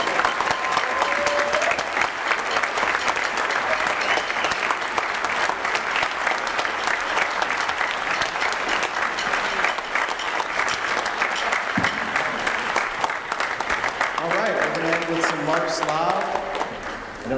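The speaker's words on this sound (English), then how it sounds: "a round of applause for Mrs. Nichol." Sustained applause from a school orchestra spring concert audience, dense steady clapping throughout, with a short musical phrase from the orchestra rising near the end and some voices underneath.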